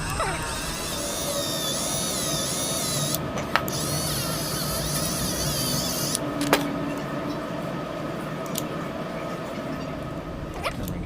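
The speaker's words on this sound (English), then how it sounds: "the Dremel there, polishing that knob up to clean it a little bit." A Dremel rotary tool polishes a knob on a White 600 sewing machine, giving a steady high-pitched whine that runs nearly continuously and close by, with a few brief clicks along the way.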